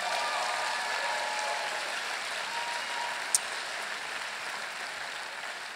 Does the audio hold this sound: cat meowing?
no